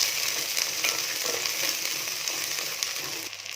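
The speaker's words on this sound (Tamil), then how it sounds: "சின்ன வெங்காயம், பச்சை மிளகாய் 2, எல்லாம் நல்லா வதங்கட்டும்" Shallots, green chillies and garlic sauté in hot oil in a pan for a Kerala-style fish curry, giving a steady, close sizzle with faint stirring scrapes and no talking.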